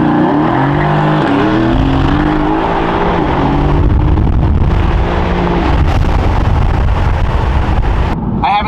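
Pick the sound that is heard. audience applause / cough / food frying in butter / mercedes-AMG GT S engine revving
mercedes-AMG GT S engine revving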